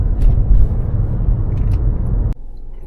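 Low engine rumble and road noise from a taxi driving through Dnipro, steady and close for over two seconds before dropping abruptly to a quieter hum.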